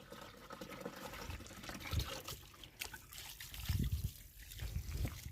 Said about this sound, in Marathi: आता यातलं पाणी टाकून दे.